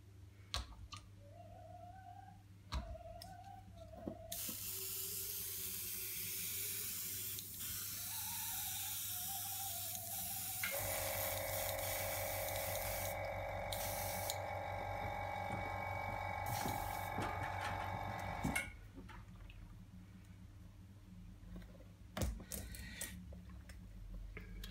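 Airbrush spraying Daler-Rowney ink in a steady airy hiss that runs for about fifteen seconds, with a humming compressor tone joining partway through, close and moderately loud.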